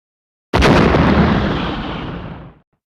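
A giant cannon in the Sonic Heroes video game fires with a single sudden, loud explosive blast whose rumbling roar decays over about two seconds.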